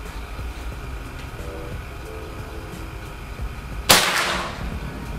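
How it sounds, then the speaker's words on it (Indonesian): A PCP air rifle fires a single sharp shot, a sudden crisp crack near the end that decays quickly over faint ambient background noise. "Sekarang kita lanjut ke tembakan yang kedua."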